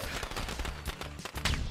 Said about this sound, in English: Basically throwing like fireworks into their dorm rooms.